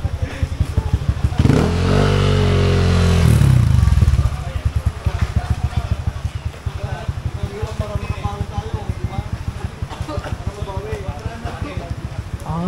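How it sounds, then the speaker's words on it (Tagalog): Many motorcycles at an endurance challenge ride event, including a BMW S1000R and a Fekon Victorino 250i, rev and rumble nearby, with one loud surge of revving early on and a steady engine drone afterward. "Bigatin yung mga motor dito."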